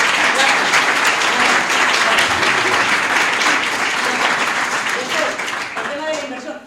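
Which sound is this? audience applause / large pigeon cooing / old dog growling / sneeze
audience applause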